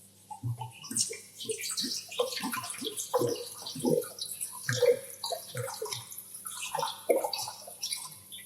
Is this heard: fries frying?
no